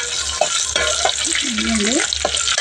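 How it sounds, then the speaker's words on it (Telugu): Spices crackling and sizzling in hot oil up close, with a spoon scraping and stirring the pan several times. "ఫస్ట్ అయితే తాలింపు వేసేసుకుంటాను"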